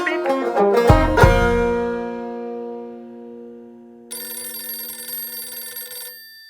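An answering machine's electronic tones sound alone: a quick run of bright chiming beeps that fades into a sustained ringing tone, followed by a steady hissy electronic tone that holds for about two seconds and cuts off.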